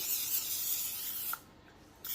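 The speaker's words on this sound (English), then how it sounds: "And we're going to spray it with some spray" A cooking spray hisses onto a pan in one long burst, then stops, followed by a brief second spritz.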